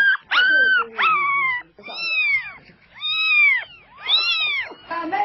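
Newborn puppies born to a cat give high, wavering cries, a close run of separate squeals and whines that rise and fall, with short gaps between them.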